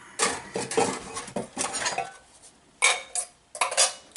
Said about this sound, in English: it's just an aluminum can. That's my cook system.